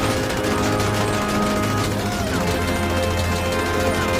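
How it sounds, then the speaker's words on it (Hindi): Rapid gunfire rattles in a 3D animated zombie Android game, bursts of shots over a dense, continuous layer of game music and effects. "शॉन ज़ॉम्बीज को मारने के लिए गन चलाता है"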